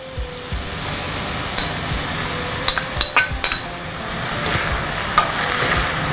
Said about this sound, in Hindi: अभी इसको अच्छी तरह मिक्स करें.